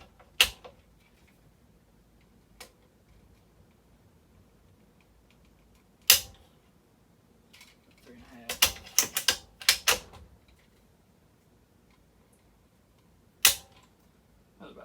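Dry-fired trigger pulls on an empty, cocked Desert Tech SRS-A1 bolt-action rifle: sharp mechanical clicks, several separate snaps spread out, with a cluster of quick clicks in the middle, close and clear with no talking.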